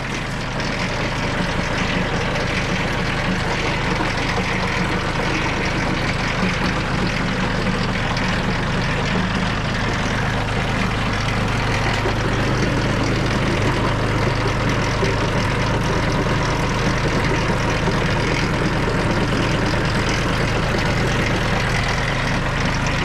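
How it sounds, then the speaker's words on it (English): A Kubota B2301 compact diesel tractor with a snow blower idles at a steady low rumble, constant and close, with faint background noise and no talking. "let's go ahead and get the tractor turned off"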